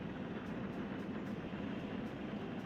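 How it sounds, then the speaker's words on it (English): Steady, dense rumble of a train pulling in within Workers & Resources: Soviet Republic, set in a tundra biome, holding an even, continuous roar throughout without any talking. "so you have a train coming in here"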